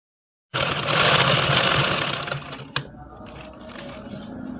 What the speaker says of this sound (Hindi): फिर हमें पूरे बेल्ट में इसी तरीके से सिलाई लगा लेनी है